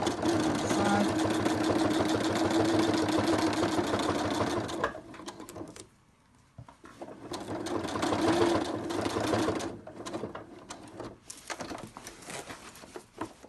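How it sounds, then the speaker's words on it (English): Straight stitching on a sewing machine runs along fabric edges for a fidget mat with Velcro. The rapid needle chatter is steady and close, stops briefly, then resumes in shorter bursts. "we're just going to stitch this in place using straight stitch, nice and neat and tidy on the side"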